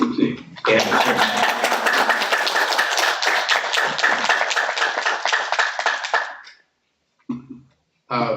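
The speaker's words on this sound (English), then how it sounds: "I'd just like to give a round of applause to our widows" Loud, dense applause from a crowd at a ceremony honoring a veteran and widows, lasting several seconds, then cutting off, followed by brief voices.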